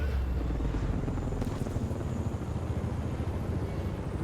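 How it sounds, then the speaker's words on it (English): A helicopter in the PS4 game Spider-Man gives a steady, close rotor chop over a thick low engine roar that holds constant throughout. "Now we got a helicopter"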